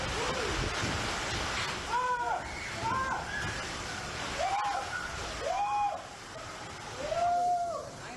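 Heavy rain lashing down with strong gusting wind in Sragen Wetan, Sragen, during a Monday-afternoon storm that damaged roofs; a continuous dense roar fills the scene while a voice talks over it.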